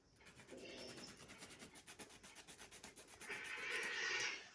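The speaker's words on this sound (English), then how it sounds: "So I grate here." Rhythmic grating of food on a grater while making a mild chicken soup with white bouillon, a steady rasping scrape of repeated strokes, fairly close and continuous with no talking.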